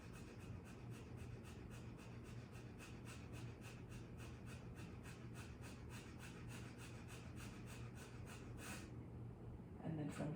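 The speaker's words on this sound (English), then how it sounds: "take a breath, breathe very fast" Rapid rhythmic breathing during an early morning yoga session, a quick regular pulse of short breaths under a steady background hiss, fairly faint, stopping abruptly near the end.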